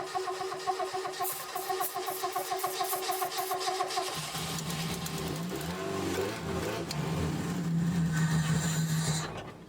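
The engine of a battered 1990s sports car cranks with a rapid rhythmic starter whir for about four seconds, then catches and settles into a loud, rough idle with slight revving.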